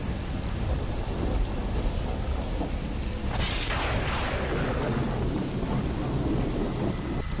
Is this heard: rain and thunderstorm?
yes